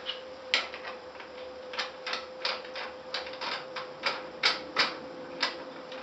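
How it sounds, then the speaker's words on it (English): Threaded star knobs spun onto the sides of a deluxe cheese press, giving a run of quiet, irregular clicks and ticks over a steady faint hum, with no one talking. "The next step is to take the threaded star knobs and spin them on to each of the sides."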